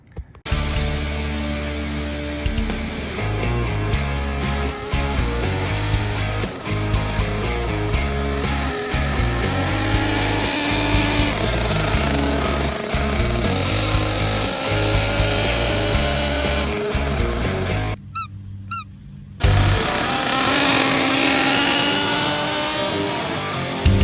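A Losi 454 RC engine runs steadily through its break-in, a loud, continuous buzzing drone that holds nearly unbroken for the whole stretch, with a brief dip in tone near the end.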